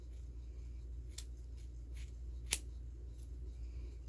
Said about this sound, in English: if you try to cut this hair off, it literally takes no effort to cut it off